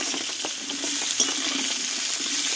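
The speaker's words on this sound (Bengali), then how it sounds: "এবার ডাঁটা আর আলু আমি একসঙ্গে একটু কষিয়ে নেব" Vegetable stalks and potatoes stir-fried together without spices in a pan, a soft continuous sizzle broken by light scraping stirs, close and alone.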